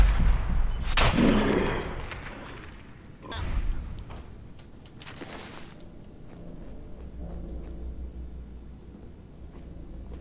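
Gunfight in Fallout 4 survival mode: a few loud sharp shots with echoing tails early on, then quieter scattered rumble and faint mechanical noise trailing off.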